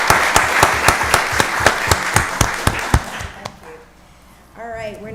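Audience at a county board of commissioners meeting applauds with loud, steady rhythmic clapping for about three seconds, which then fades out, leaving quieter room noise and a voice beginning to speak.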